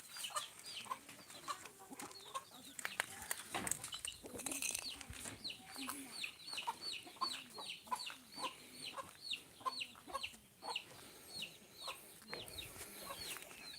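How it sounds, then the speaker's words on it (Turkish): Chickens cluck repeatedly in a steady, busy chorus, fairly close, with scattered rustling and other farmyard noise underneath. "Tavukların bir kısmı da buralarda."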